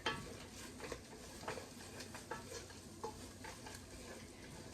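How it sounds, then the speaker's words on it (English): Flour cooks in melted butter for a soup roux, a quiet low sizzle under repeated soft stirring scrapes and light utensil taps against the pot, close and faint with no speech. "we're just going to make sure we cook the flour to get rid of the pasty"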